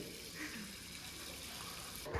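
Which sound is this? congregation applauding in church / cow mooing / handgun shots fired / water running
water running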